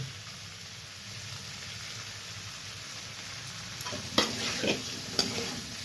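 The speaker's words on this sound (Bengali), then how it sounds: "তো মশলাটাও কষে আসছে, চারিদিকে তেলও বেরিয়ে আসছে" Spice paste frying in oil for cauliflower rezala gives a steady close sizzle, with a spoon stirring and scraping the pan in a few louder strokes toward the end.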